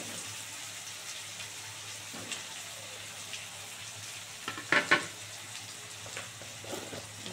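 Potatoes fry in a pan for an egg curry, a soft, even sizzle held at low level throughout, with a couple of brief louder clatters near the middle.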